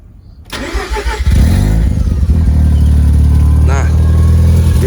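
A Mazda RX7 FC3S with a turbocharged rotary engine cranks briefly, catches and revs up, then settles into a loud, steady, close-up idle that drones on to the end.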